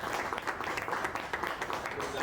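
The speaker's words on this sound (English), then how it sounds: "Let's give a big round of applause." An audience applauds at a campus design talk, a soft, dense patter of many hands clapping, fairly distant and faint, with some voices mixed in.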